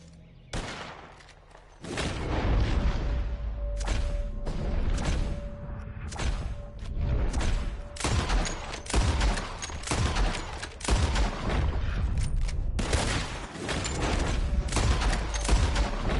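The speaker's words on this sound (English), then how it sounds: "You shoot 4 birds out of the sky before me, you win." Gunfire in the video game Red Dead Redemption 2 as birds are shot from the sky, a quick volley of loud, close shots in irregular bursts over a constant background.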